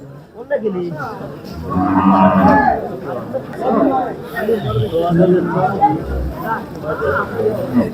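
Cattle, cows and bulls at a busy livestock market, low now and then amid constant crowd chatter and voices close by.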